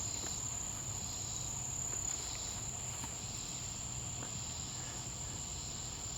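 A sage trig or swamp cicada calls nearby, a steady continuous buzzing trill that holds evenly throughout over outdoor ambience, with no talk.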